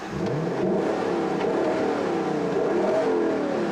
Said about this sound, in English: Now, the engine in this car is just seriously wonderful sounding.